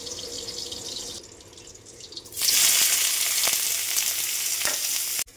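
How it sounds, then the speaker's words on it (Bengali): Fish head frying in a wok, a broad steady sizzle that swells loud partway through after a quieter stretch, with faint scraping and clicks; no voices. "মাছের মাথাটা ভেজে নেব ওখানটায়"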